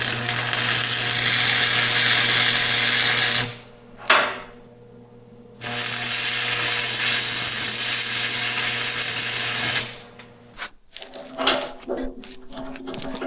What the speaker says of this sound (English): So I just welded it in 3 spots.